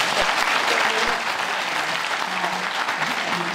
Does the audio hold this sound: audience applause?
yes